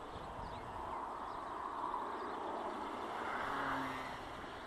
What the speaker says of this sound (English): I'll just have to do a swoop with the motor on, I think.